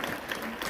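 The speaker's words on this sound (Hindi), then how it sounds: "रोहित के लिए एक बार जबरदस्त तालियां।" Audience clapping for Rohit at a leadership seminar in a hall, a short dense burst of applause, moderately loud and even, with no talking over it.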